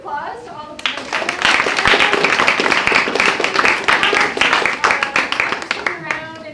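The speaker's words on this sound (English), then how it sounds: "Round of applause to all the participants." An audience at a research slam event claps for all the participants, dense and lively close-up clapping that swells after a brief spoken lead-in and tapers off, with voices at both ends.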